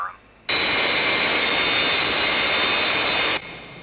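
A large jet aircraft's engine roars in the Thunderbirds puppet series, with a loud, steady, broadband blast of about three seconds that starts and stops abruptly.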